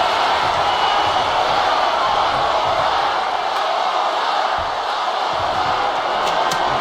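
Wrestling arena crowd in the WWE 2K25 video game, a dense, steady roar of cheering that holds loud and constant throughout, with brief sharp peaks rising out of the noise.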